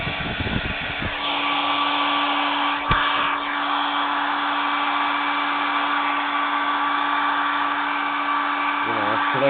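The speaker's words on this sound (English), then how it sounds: "Get the blow dryer and" A hair dryer drying skateboard bearings runs steadily and loudly with a constant whirring hum, briefly interrupted by a thump near the start, continuing without pause.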